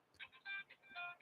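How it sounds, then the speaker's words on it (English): A phone rings with a short, faint run of bright melodic ringtone tones in two quick bursts. "But there's his phone ringing."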